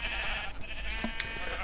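Sheep in a Minecraft barn farm give short, faint bleats over a constant game-ambience hiss, a couple of brief calls within under two seconds.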